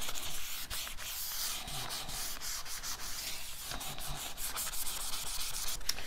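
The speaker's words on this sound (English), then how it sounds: "I'm going to use a 330 grit sanding pad, and I'm really going to give this a good sanding" Steady abrasive sanding of a glass plate with a 330-grit sanding pad, a continuous gritty rubbing with rhythmic strokes, close and fairly loud, no voices.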